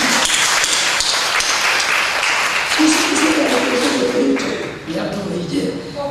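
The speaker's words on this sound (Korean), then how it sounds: "큰 박수로 환영하겠습니다" A church congregation claps broadly to welcome a new teacher at a Sunday service, a dense, steady wash of applause that carries on for several seconds, with voices rising in the background toward the end.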